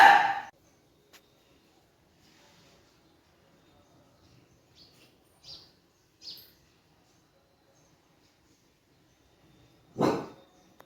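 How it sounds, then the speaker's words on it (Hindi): A dog barks at its own reflection in a mirror indoors. Two sharp, loud barks come roughly ten seconds apart, with faint small chirps and rustles in the quiet stretch between them. "अपने आप को आईना में देखती है और भौंकती है खुद ही"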